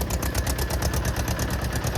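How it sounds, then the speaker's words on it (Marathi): A tractor engine chugs on a road with a rapid, steady mechanical pulse, loud and close, a continuous rhythmic putter with no voices. "जाऊ दे ट्रॅक्टर रे सरजा जाऊ दे ट्रॅक्टर"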